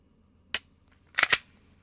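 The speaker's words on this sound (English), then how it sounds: "Shoot 5 more rounds." Three sharp, close reports from a Glock 20 SF Gen 3 10mm Auto pistol at a range: a single shot, then after a pause two more in quick succession.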